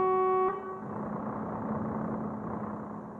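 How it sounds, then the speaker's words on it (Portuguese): A truck horn in the video game Truckers of Europe 3 blares one loud, steady tone for about half a second, then cuts off, leaving the low rumble of an idling engine and rain-like noise running on alone. "Vamos ver se ele funciona com buzina."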